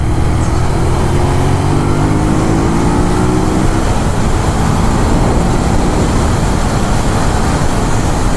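A 2018 Ducati Monster 821 motorcycle riding through English countryside roads, its engine droning loud and steady with rising and falling pitch sweeps under heavy continuous wind rush.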